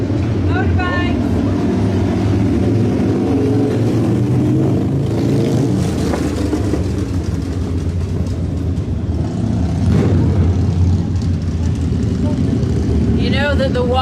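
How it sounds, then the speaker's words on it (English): Motorbike passing along a street in Gorinchem, a loud engine roar with a rising and falling swell that holds for several seconds, mixed with traffic noise, a bird chirping at the start and near the end. "Motorbike."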